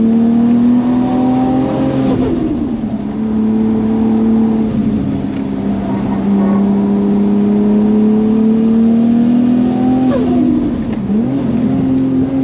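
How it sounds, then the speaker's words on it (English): A loud 730hp turbocharged Nissan R33 GT-R engine drones at high, steady revs with a whining tone, dipping briefly twice before climbing back up. "Makes all the right turbo noises."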